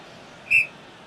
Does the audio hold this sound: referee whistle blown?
yes